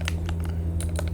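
A password is typed on a computer keyboard, a short flurry of several crisp key clicks close up over a steady low hum, with no speech.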